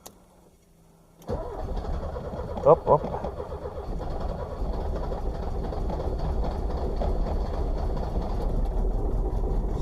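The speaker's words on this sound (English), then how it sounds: "So I managed to make the car start." A Porsche 924 engine cranks and catches at about one second, then idles roughly with uneven rumbling and a couple of louder sputters, close and loud, while a voice briefly speaks.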